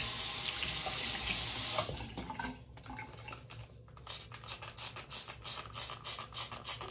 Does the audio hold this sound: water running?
yes